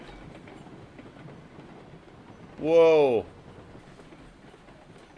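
A train car rolls on rails in the RailRoads Online video game, a loud squealing, tonal burst lasting under a second over a low rumbling background, while a voice briefly exclaims.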